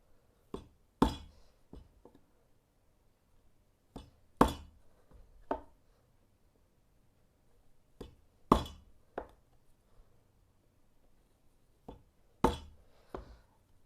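A chisel chops wood fibers for a mortise in a series of sharp, close strikes. Hard blows come roughly every few seconds, with lighter taps between them and quiet gaps in between.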